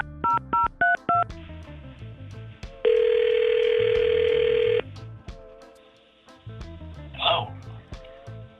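A radio show places a phone call: a quick burst of touch-tone dialing beeps, a steady tone lasting about two seconds, then quieter line noise and faint background music, with a brief click or throat sound near the end.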